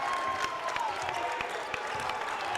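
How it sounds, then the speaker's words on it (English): A home basketball crowd in a college gym cheers and applauds, a dense wash of clapping with scattered sharp claps, moderately loud and sustained without pause. "this is one of the loudest crowds I've heard in the Kettle ever"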